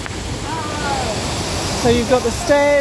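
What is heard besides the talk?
Dyserth Falls waterfall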